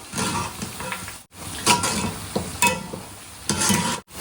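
Spoon stirring a thick masala chicken pakoda batter in a bowl, repeated wet squelching and scraping strokes in a close, steady rhythm with no talk.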